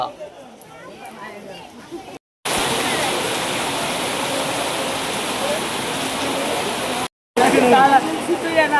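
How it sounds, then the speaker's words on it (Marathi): Steady, loud rushing water from a waterfall at Marleshwar, continuous broadband roar with brief cuts; a voice speaks briefly at the start and end. "हा बघा मित्रांनो धबधबा"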